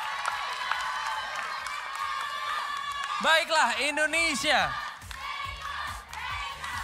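A live television studio audience in Indonesia claps and cheers, swelling into loud whoops and shouts midway before settling, with a voice speaking over the crowd.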